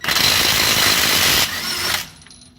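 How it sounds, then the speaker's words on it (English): A Ryobi 1/2-inch electric impact gun removing a pinion nut on a 1976 Nova: a loud, steady, high-pitched hammering whir that drops in level partway through and then cuts off abruptly. "trusty Ryobi 1/2-inch impact gun, which if you haven't tried out these electric impact guns, they are amazing"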